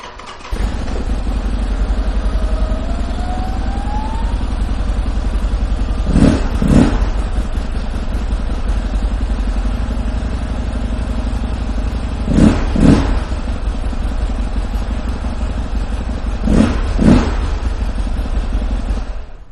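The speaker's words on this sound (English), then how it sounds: "I am going to take the opportunity right now to go ahead and fire this bike up for you" A stock-exhausted 2009 Harley-Davidson XR1200 motorcycle idles with a steady low rumble, then three pairs of sharp throttle blips rise and fall over the idle, spaced a few seconds apart.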